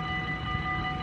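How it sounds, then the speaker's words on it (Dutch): A passing train in Susteren, a steady mechanical rumble with a faint tonal hum, moderately distant and constant for about a second, no voices. "Laatste trein."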